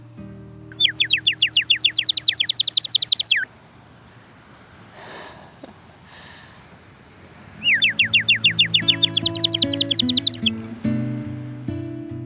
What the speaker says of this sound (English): 2 birds just flew past and responded to my call.